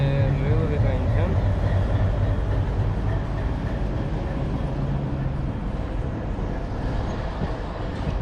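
A passing railway train rumbles loudly and continuously alongside, with a low horn tone sounding briefly near the start and again midway over the rolling clatter.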